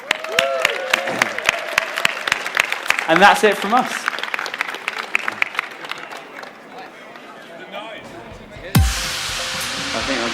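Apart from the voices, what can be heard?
audience cheering and applauding at EGX Rezzed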